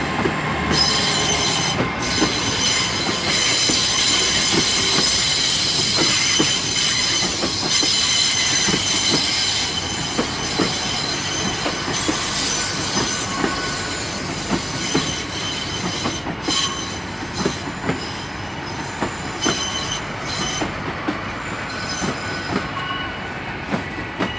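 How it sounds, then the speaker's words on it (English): Class 800 unit 800 313 pulling out of Bristol Temple Meads on a London Paddington service, loud rumbling wheels with repeated clicks over rail joints and high squealing from the wheels, steady and close for the whole stretch. "departing out here is 800 313, which is the unit on the 17:30 departure for London Paddington"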